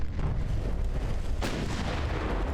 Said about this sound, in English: so last full salvo, and then I just have to survive 2 shells.